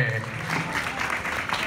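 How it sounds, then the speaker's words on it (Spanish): Children's audience at a Disney Moana kids' show clapping loudly, a moderate, fairly steady patter with a faint voice or tone underneath early on. "¡Aplaudiendo fuerte!"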